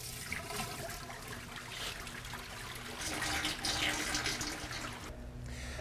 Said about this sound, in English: all the water flows to the back corner of the tank where the recovery hose happens to be located